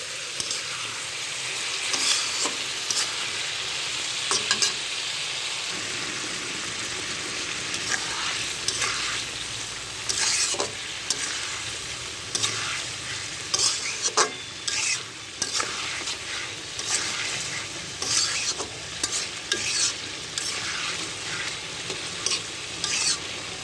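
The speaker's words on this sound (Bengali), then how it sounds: "এভাবে নাড়াতে থাকেন, এভাবে নাড়াতে হবে।" Taro and silver carp frying and being stirred in a pan, a steady loud sizzle broken by repeated scraping stirs throughout, with no talking.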